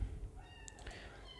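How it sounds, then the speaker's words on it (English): A cat meows faintly a couple of times, short high calls over a low background hum, no talking. "It's meowing."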